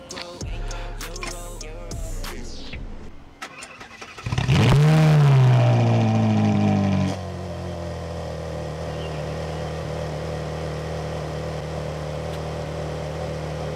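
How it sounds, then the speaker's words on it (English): A dead 2011 Ferrari 458 Italia V8 engine fired up with a booster pack, cranking then catching with a loud rev flare before settling into a steady idle, recorded nearby outdoors. "They've just fired it up. They've got the booster pack connected."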